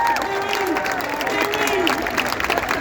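Comedy festival audience in Montreal clapping and cheering, a loud mix of applause and crowd noise with voices and a speaking performer layered on top.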